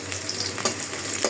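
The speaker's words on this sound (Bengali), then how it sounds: "এখানে আমি লাউ শাকটা ভেজে ফেলি।" Bottle gourd greens frying in a pan, making a close, steady sizzle with a few soft stirring scrapes during a brief moment.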